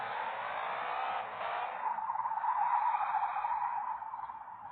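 A car sliding sideways in a video game drift, giving a long continuous tire skid and squeal that rises, wavers and fades steadily for several seconds without a break.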